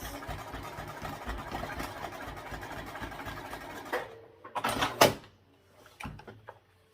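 A sewing machine runs steadily for about four seconds while stitching a vinyl tote seam at a 1/2 inch seam allowance, then stops, and a few short clunks and handling noises follow.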